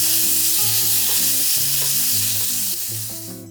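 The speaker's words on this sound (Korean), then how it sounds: "재워둔 소고기도 기름 두른 팬에 올려 센 불에서 빨리 볶아주세요." Marinated beef stir-fries in an oiled pan over high heat, a loud, continuous hissing sizzle with a low steady hum beneath that fades slightly at the end, with no voices.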